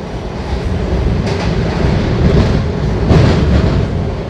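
A Washington DC Metro subway train rumbles along the track, a loud, continuous, broadband roar with slight swells in intensity over a few seconds.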